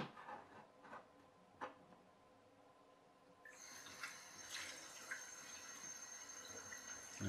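Water trickling and splashing as it is poured into the tube of a pop pop boat, faint and close, with a few soft knocks before a steadier pour takes over.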